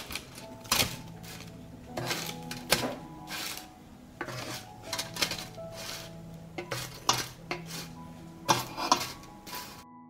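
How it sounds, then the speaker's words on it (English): Burgers are flipped on a metal baking tray, giving sharp metallic clinks and scrapes of utensil on tray, spaced irregularly with quieter gaps between. "I turn the burgers to the other side."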